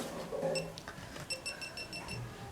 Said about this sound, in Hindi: ये उसको देख रही है तो तब हल्की हल्की बीप दे रही है